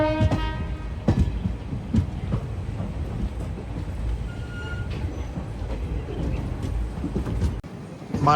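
The Visakhapatnam–Machilipatnam Express rolls along with a steady rumble and rattle heard from aboard, with faint tonal squeals and brief knocks of the wheels.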